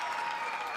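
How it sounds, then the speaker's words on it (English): An audience at a school student musical showcase applauds in a dense, even burst of clapping that holds steady for under a second. "let's have a round of applause for Chelsea and Joe Wilson"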